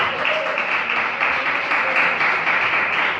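Congregation clapping at a church service, a dense, steady burst of many hands applauding together, fairly loud and close, with no talk over it.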